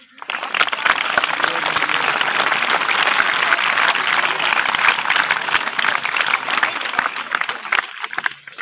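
A live audience at a stage magic show applauds steadily, a dense sustained wash of clapping that fades in quickly and then holds at an even level, with no talk over it.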